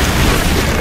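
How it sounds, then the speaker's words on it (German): A loud, sustained explosion boom in the video game Hunted: The Demon's Forge, a broad roaring blast that fills the whole short moment without any pause. "Ah, komm, Explosion."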